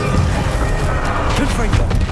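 Booming magical blasts from the Bombarda explosion spell in Hogwarts Legacy, loud dense rumbling impacts rolling continuously under busy game-combat noise.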